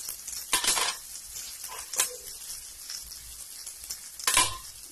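Cinnamon sticks, cloves and fennel seeds sauté in oil in a pan for a mushroom kuzhambu, giving a soft constant sizzle broken by a few sharp bursts of stirring and utensil scrapes.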